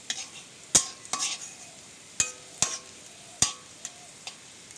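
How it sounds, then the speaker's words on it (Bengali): Jute leaves and small shrimp frying together in a pan, a soft steady sizzle punctuated by several sharp scrapes and clinks of a spatula stirring against the metal, fairly quiet and close, no voices. "পাট শাকগুলো চিংড়ি মাছটা এই একসাথেই ভেজে নেবো"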